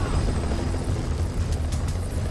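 Helicopter in Marvel's Spider-Man on PS4, a loud low rotor thump and engine drone pulsing steadily, with some faint higher clatter toward the end.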